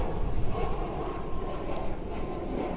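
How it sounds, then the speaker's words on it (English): A Southwest airliner departs Honolulu in high wind, a steady, broad jet engine roar heard from a distance with some wind noise on the microphone. "we were comparing the departure of this Southwest and the other"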